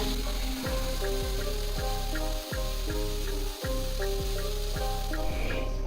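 Vegetables sautéing in a pan with sweet soy sauce as the liquid cooks down, a steady close sizzle with a repeating rhythmic scrape of the spatula stirring through it, no talking.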